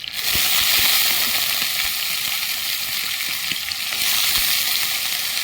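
Onions frying until brown in a pan: a steady, loud broadband sizzle runs throughout with light crackles and pops, no talking.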